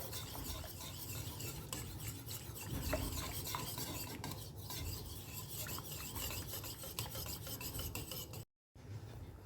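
A mango dessert mixture is stirred steadily in a wok over a high flame. A continuous close scraping and rasping of the utensil against the pan runs throughout, cutting off briefly near the end.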